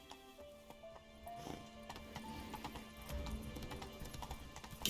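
Horse hooves clip-clopping at pace in The Witcher 3, a steady near rhythm of hoofbeats over a continuous game music and ambience bed.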